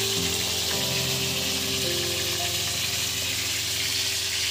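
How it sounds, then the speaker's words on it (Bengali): Cauliflower florets fry in a pan in a loud, steady sizzle that lasts throughout, with a faint tonal layer underneath. "বন্ধুরা ফুলকপি ভাজা চলছে, কালার হচ্ছে"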